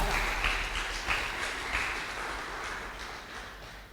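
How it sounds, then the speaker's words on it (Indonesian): A crowd applauds with dense, sustained clapping that swells in waves and carries on steadily without voices on top. "Beri tepuk tangan yang luar biasa"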